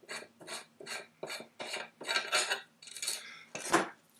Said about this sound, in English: I'm going to unscrew it, take the flash hider off